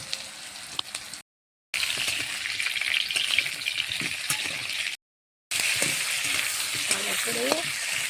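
Cumin and vegetables fry in a pan at home, a loud continuous sizzle broken by two short silent gaps, with occasional stirring scrapes and a light clink late on.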